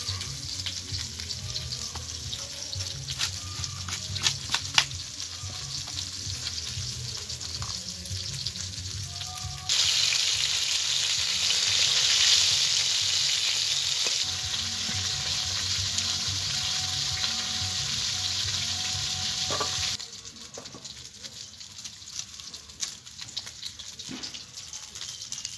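Small rohu fish frying in oil, a continuous sizzle with a louder rushing, water-like burst in the middle stretch before it settles back to a softer crackle, no talking.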